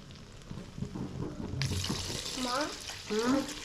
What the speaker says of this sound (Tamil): இதுக்கு தேவையான அளவு தண்ணி சேர்த்துக்குவோம்